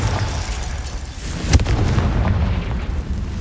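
A Confringo fire spell explodes in Hogwarts Legacy: a loud rumbling boom over dense low-end noise, peaking sharply midway and then settling into a continuing roar.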